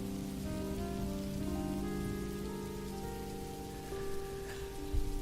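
Steady rain drums on a car during a drive, a continuous patter heard alone beneath a sustained musical drone, with a few louder drops near the end.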